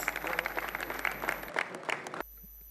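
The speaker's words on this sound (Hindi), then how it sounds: "पुनः एक बार हम करतल ध्वनि से तालियों से उनका अभिवादन करते हैं।" Audience applause at a Sanskar Bharati cultural programme in India, a steady wash of many hands clapping that runs for about two seconds and then cuts off into near silence.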